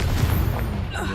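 A Confringo blasting spell in Hogwarts Legacy erupts in a single short, deep boom that rumbles loudly and fades within about a second.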